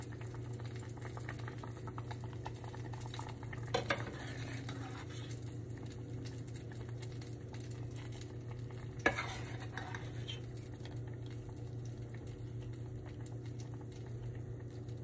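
Thickened warm fruit chutney spooned out of a pan in a quiet room, faint soft scraping over a low hum, with two brief spoon clinks against the pan.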